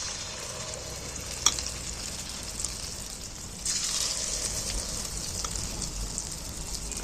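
Egg and onion pieces dropped one at a time into hot oil, sizzling with a steady close hiss that swells louder partway through as more pieces go in, with a faint click near the start.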